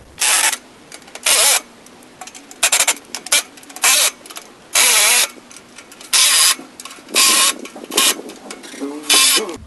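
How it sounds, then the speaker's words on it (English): Impact wrench fitted with a 1/2-inch deep well socket tightening bolts on a Javelin 16-4 auger, firing in repeated loud bursts of about half a second each, with short pauses between them. "Then we take an impact with a 1/2" deep well socket and a 1/2" open end wrench, and we tighten down the bolts."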